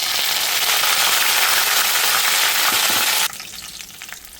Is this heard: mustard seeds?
yes